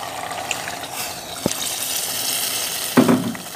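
Stock poured into a pan of frying cauliflower and mutton curry, a loud steady sizzle with a splash as the liquid hits, then a burst of bubbling near the end.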